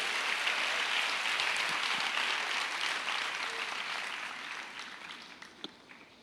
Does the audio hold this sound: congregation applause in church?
yes